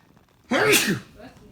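A single sharp, close sneeze, loud and breathy, bursting out of near silence and fading quickly.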